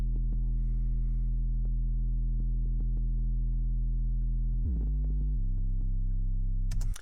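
A synthesized sub bass in Ableton holds a loud, pure, continuous low tone, stepping down in pitch twice near the end before cutting off.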